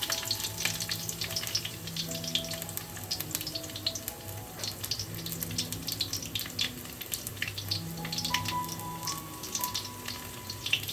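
Dry red chilli and mustard seeds sizzle steadily in mustard oil, a continuous close crackling hiss with faint background tones and no talk.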